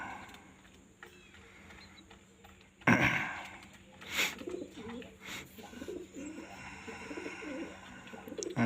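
Pigeons coo softly at a steady, moderate distance in a quiet outdoor setting, with a few louder rustling bursts breaking through partway.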